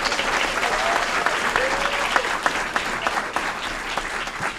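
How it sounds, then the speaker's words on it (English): Steady round of applause from the audience at an Aurora city Committee of the Whole meeting, a continuous wash of hand clapping with a few sharper claps standing out and faint voices underneath. "Let's give him a round of applause."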